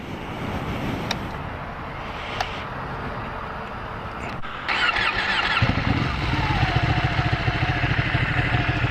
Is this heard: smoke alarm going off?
no